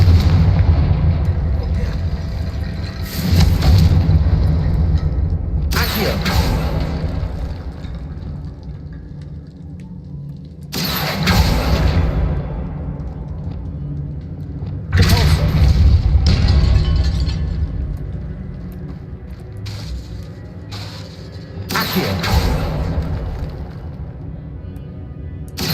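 Confringo fire spells in the video game Hogwarts Legacy, with a series of loud booming blasts at irregular intervals, each trailing into a rumbling decay, set over low background drone.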